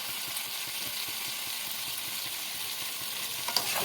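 Boiled jackfruit and potato with turmeric and salt are stir-fried in a pan, a constant soft sizzle under rhythmic scraping and stirring strokes, ending with a couple of sharper clinks, no speech.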